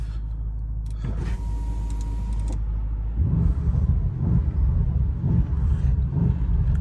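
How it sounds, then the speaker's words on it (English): A 2022 Bentley Continental GT V8 in sport mode gives a deep, loud engine rumble heard from inside the cabin, with a brief mechanical whir early on before the low throb grows heavier and pulses steadily. "when you put your foot down, the whole car just vibrates"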